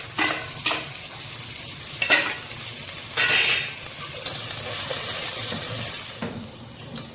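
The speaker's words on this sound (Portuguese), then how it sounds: "a cebola tá refogando junto com o alho" Diced onion and garlic sauté in a pan for a beef lasagna, giving a steady close sizzle with scraping stir strokes and occasional clinks of the spoon, no speech.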